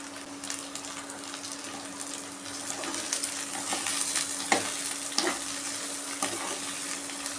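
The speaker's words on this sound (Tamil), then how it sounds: "வெண்டைக்காயும் எண்ணெயிலே நல்லா கொஞ்சம் வதங்கணும்" Okra sizzling in hot oil with onion and curry leaves while it is stirred, for a South Indian okra stir-fry; a steady frying hiss with a few clinks of the spoon, fairly quiet and close, no talk.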